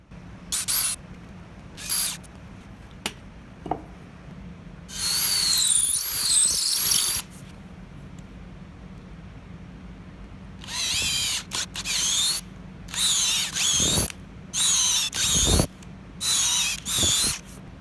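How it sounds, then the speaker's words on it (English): Bursts of a high-pitched power drill whining in short and longer runs while drilling and tapping holes in a cabinet frame, separated by quiet pauses and occasional small clicks, close up. "I position, drill, and tap the threaded holes at the top of the frame"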